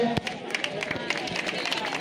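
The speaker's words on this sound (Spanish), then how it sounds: "Les vamos a dar un detallito, le damos un aplauso." A crowd at an outdoor charity cross-country run and hiking event applauds in a short burst of scattered, uneven claps, with people talking and chattering underneath.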